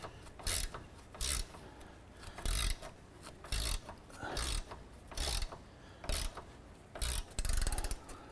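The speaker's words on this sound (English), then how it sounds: "So we're using a 14mm gear wrench to go ahead and remove this nut." A 14mm gear wrench ratcheting on a sway bar end link nut during rear strut work on a 2008-2012 Honda Accord, sharp clicking bursts repeating in an irregular rhythm of about a dozen strokes, close and distinct.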